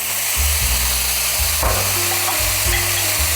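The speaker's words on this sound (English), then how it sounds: "Again, I'm going in with some soy sauce," Soy sauce hits a hot pan for homemade hibachi, giving a loud, steady, close sizzle that keeps on without pause, with faint low thumps from the pan underneath.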